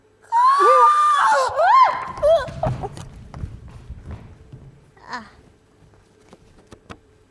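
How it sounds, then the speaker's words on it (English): Women scream loudly at the start, then the screaming fades into hurried running footsteps that patter away, growing fainter and ending in a few scattered knocks and taps. "The mothers scream and run off."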